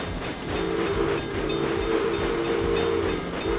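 A train in a railway empire-building game rolls past with a loud, steady rumble, rhythmic clickety-clack of wheels and a sustained horn-like tone.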